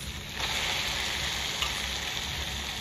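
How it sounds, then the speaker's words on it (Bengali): Chicken pieces hit a hot pan and fry with a loud, steady sizzle that swells as they land and keeps crackling close by. "চিকেনটা ঢেলে দিচ্ছি"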